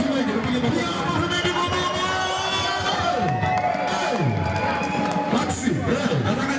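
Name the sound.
audience applause and cheering at a live concert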